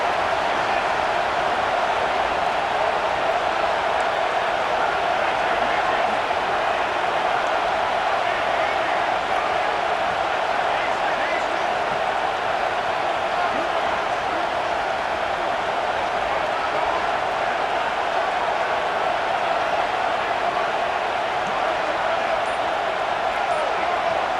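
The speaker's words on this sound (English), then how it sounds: "with this place rocking, the crowd forces a false start" Stadium crowd at a Wisconsin vs Oklahoma college football game roaring continuously at a fourth-down play, a dense, sustained wall of noise with no break across the whole stretch.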